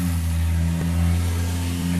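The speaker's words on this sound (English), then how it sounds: "A car just drove by." Car passing outside near a porch, a steady low engine rumble with a slight swell as it goes by, fairly loud and continuous with no talking.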